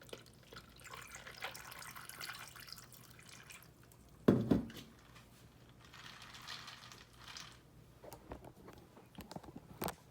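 Kool-Aid is poured from a container in a faint, close trickle with a splashy burst partway through, then drips and small liquid sounds in a quiet room.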